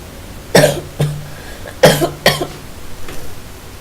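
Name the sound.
cough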